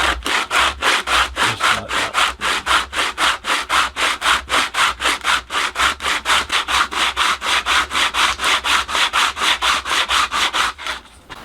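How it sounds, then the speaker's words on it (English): Rapid, regular back-and-forth scraping of small wooden drinks coaster pieces rubbed by hand on sandpaper with the grain to level them, close and steady, dozens of even strokes with no talking. "on the sandpaper just to get it down to level"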